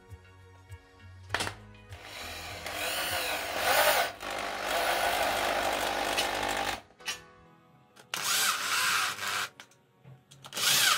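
An electric screwdriver fitted with a number 10 bit drives screws to mount a TV bracket on a wall. It gives one brief whir, then a long whine of several seconds, then further bursts, all close by.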